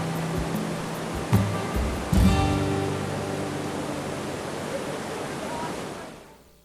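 Steady broadband rush of splashing waterfalls in the Watkins Glen gorge, a continuous close wash of falling water with a couple of brief louder bursts, fading out at the end.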